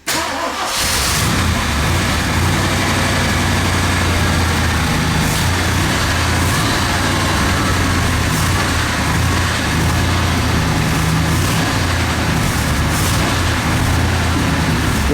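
A 1966 Ford Galaxie 500 XL fires up after sitting for 30 years, with a brief crank that catches quickly and then settles into a loud, steady, rumbling idle with faint rhythmic variations throughout.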